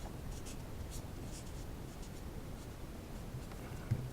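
Steady, faint scratching of a pen writing out a physics equation by hand, continuous strokes over low room noise with one small tap at the end.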